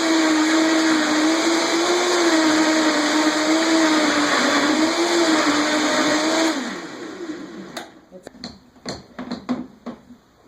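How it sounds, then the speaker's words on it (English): A Vitamix blender runs on its lowest setting with a steady loud motor whine that wobbles slightly, then cuts off, followed by several sharp knocks and clatters close by. "if you're not used to using a Vitamix, you're going to set it on the lowest setting"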